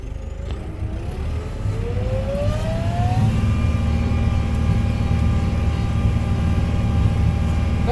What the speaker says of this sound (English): Very agile tractor.